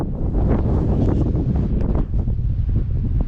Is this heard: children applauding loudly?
no